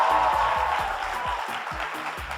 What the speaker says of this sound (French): Je voudrais un tonnerre d'applaudissements pour mon complice DJ